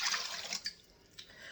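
Hot water poured into a mixing bowl for bread dough, a bright splashing gush that stops abruptly, then two short drips in the quiet afterward.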